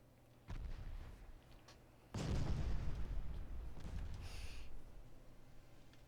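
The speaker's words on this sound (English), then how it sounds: "I did hit it with a torpedo." Torpedo hit explosion in the naval video game Ultimate Admiral: Dreadnoughts, a quieter distant boom followed by a larger, louder blast with a rumbling tail that slowly fades.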